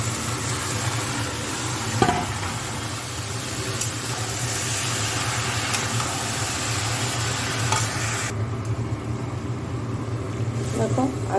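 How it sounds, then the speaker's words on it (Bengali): Boiled banana blossom stirred into spices frying in oil for a coconut banana blossom curry, giving a steady, close sizzle with scraping stir strokes throughout and no talk. "এখন আমি মোচা সেদ্ধটা দিয়ে দেবো।"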